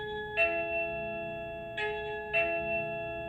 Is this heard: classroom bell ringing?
yes